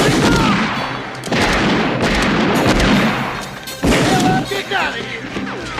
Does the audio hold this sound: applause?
no